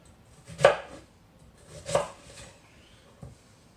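A knife chops cabbage on a board, with three distinct cuts spaced about a second apart, the first two sharp and loud and the last one lighter.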